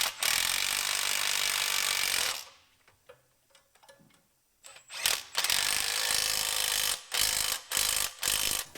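Bolts on a Fox Body car axle being tightened with a tool, long harsh ratcheting and scraping bursts broken by brief quiet gaps and small clicks, close and loud.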